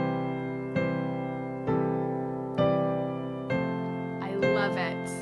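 Solo piano plays an inverted melody theme beginning on C, five evenly spaced sustained notes ringing close and clear, with brief voices entering over the last note.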